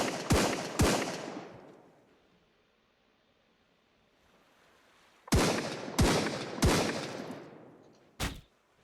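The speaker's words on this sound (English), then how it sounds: "That was a bit of a pop shot because I knew roughly what direction he was in" Gunshots in the survival video game Sunkenland, two sharp reports, then a long quiet gap, then three more evenly spaced shots and a final one, each loud with a trailing echo.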